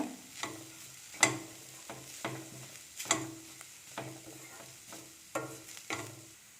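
A spoon stirs coriander and turmeric powder into cauliflower in a pan for stuffed chapati, giving a series of spaced scraping strokes and knocks over a soft, low sizzle, close and fairly quiet.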